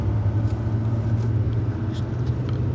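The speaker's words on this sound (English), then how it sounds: "start with a quick little drive around the racetrack here" Car cruising slowly around the outside of a racetrack, logged by an HP Tuners RTD+ setup, with a steady low engine and road rumble heard from inside the cabin, continuous and moderately loud with no speech.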